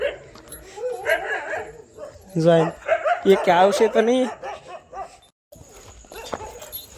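Dogs yip, bark and whimper in short bursts close by, mixed with people talking over them in a loose outdoor scene.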